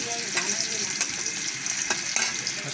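Green chilies and onions fry in a pan with a continuous close sizzle, punctuated by a few sharp stirring taps and scrapes against the pan.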